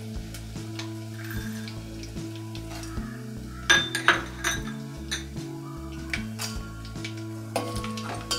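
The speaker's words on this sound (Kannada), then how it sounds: "ಸೊ ಇದು ಸ್ವಲ್ಪ ಕೆಂಪಗಾದ್ಮೇಲೆ ತೊಗೊಂಡಿರೋ ಕಡಲೆ ಬೀಜ ಹಾಕ್ಕೊಳ್ಳೋಣ" Peanuts and roasted gram stirred in a pan over low flame for mandakki chivda, a spoon clinking and scraping against the metal in irregular bursts over steady background tones.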